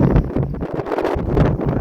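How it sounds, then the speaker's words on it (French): Strong gusts buffet the microphone in a steady roar with low rumbling pulses, loud and close throughout, on a windy outing between Rijeka and a coastal destination in Croatia. "vent est complètement fou."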